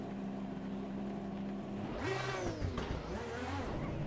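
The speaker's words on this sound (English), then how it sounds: "start the car up." A race car engine in a sim racing game cranks and fires up at about two seconds, rising pitch as it catches and revs briefly, then settles into a rough idle over a steady background hum.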